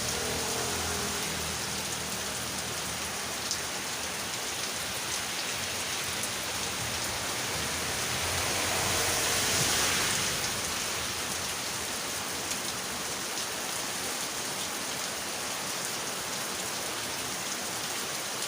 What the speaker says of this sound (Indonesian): Hujan semakin besar.